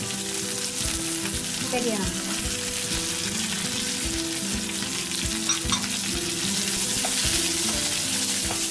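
Small onions (shallots) sauté in a pan with a steady, close frying sizzle and occasional stirring scrapes, with background music throughout and no talking.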